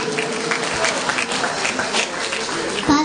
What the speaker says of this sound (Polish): Duże brawa dla naszych wspaniałych artystek młodych.